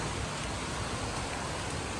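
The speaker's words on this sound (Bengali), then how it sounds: "এখন ভালোই বৃষ্টি হচ্ছে, দেখেছো?" Heavy rain pours down in a steady, dense hiss with no breaks, fairly soft and even throughout, with no voices.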